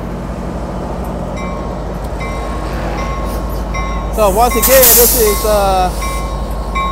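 Amtrak Capital Corridor train 737 bound for San Jose, led by a 2006 F59PHI locomotive, idles and begins departing Richmond station with a steady rumble, then a loud burst of wheel squeal and brake hiss midway; someone speaks briefly.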